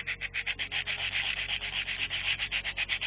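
Metal casing of an Atari Jaguar game console being rubbed to remove rust, a close, rhythmic scrubbing sound of quick back-and-forth strokes, steady and even, with no talking.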